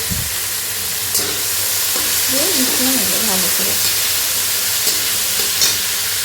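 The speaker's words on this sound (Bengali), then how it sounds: "এটাকেও ভালো করে নেড়ে ছেড়ে ভেজে নেব" Vegetables fry in a wok for hakka chow, giving a constant loud hiss with occasional stirring knocks, while a voice talks faintly in the background.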